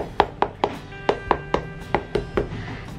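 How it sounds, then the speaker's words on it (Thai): Durian fruit shell knocked by hand, about ten sharp, evenly spaced hollow taps, close and clear with a brief resonant ring after each. "ถ้าเคาะแล้วมันดังก้องๆนะคะก็คือสุกแล้วนะคะ"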